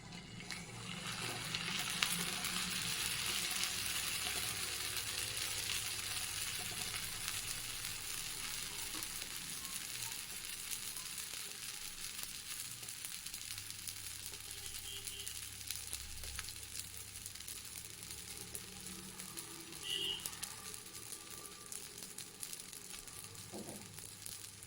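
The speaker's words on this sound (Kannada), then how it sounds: "ಈ ಥರ ಐರನ್ ತವಾಗೆ ಈಗ ದೋಸೆ ಹಿಟ್ಟು ತಗೊಂಡು" Dosa batter sizzles on an iron tawa with a steady close hiss that holds for the whole stretch, faint scraping underneath and no voices.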